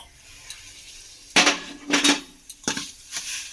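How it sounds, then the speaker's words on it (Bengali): A spoon clanks sharply against a bowl in a few loud, separate knocks while plain yogurt is mixed into roasted semolina for rava idli batter, with quiet gaps between strikes. "টক দইটা এবারে এর সঙ্গে মিশিয়ে দেব।"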